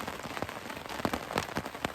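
Rain pattering steadily on a poncho shelter during an all-day rainstorm, a dense hiss with scattered sharper drop hits close overhead, no voices.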